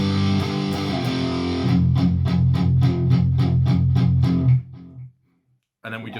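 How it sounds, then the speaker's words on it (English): Electric guitar playing: a sustained chord gives way to a run of rhythmic palm-muted power-chord chugs, then a short silence before playing briefly resumes, close and loud. "And then you palm mute and sort of chug."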